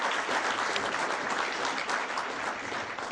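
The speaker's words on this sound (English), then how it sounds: "Let's give all of our sponsors a round of applause" A Hall of Fame ceremony audience applauds the sponsors, dense sustained clapping from a crowd that fills the whole stretch at an even level.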